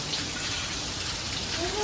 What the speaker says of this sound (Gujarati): બહાર વરસાદ આવે છે